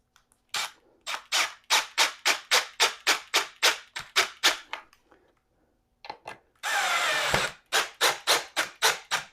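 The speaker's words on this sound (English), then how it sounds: "let's screw them in gently" Screws being driven into lazy Susan hardware with a power drill, heard as a quick run of short, evenly spaced whirring bursts, a brief pause, a longer continuous drive, then more rapid bursts, close and loud with no talking.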